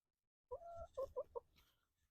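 Farm chickens cluck while pecking at rabbit blood during butchering, a short burst of four or five quiet clucks after a moment of silence.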